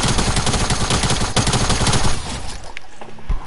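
Rapid, loud video game gunfire in dense, continuous bursts of automatic shots, thinning into a few scattered shots toward the end.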